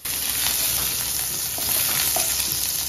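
Honey garlic and green chili are stirred in a hot oiled pan, a steady close sizzle with faint scraping under it.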